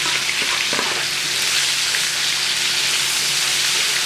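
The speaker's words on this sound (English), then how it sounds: "So you just kind of want to saute this up along with your short rib." Sliced onions sauté with beef short ribs in oil, a loud, dense, continuous sizzle close by, with a few faint clinks of stirring early on.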